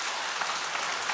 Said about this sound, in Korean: 박수 좀 쳐드리세요. 감사하다고.